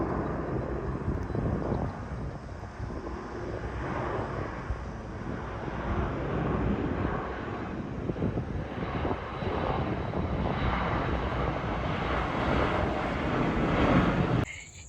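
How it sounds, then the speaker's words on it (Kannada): A fixed-wing airplane passing low over a house near an airport, its broad engine roar steady and loud for the whole stretch, swelling slightly toward the end before cutting off, with some wind buffeting the microphone. "ದಿನಾ ನಮಗೆ ಏರೋಪ್ಲೇನ್ ನಮ್ಮ ಮನೆ ಮೇಲೇ ಹೋಗುತ್ತೆ"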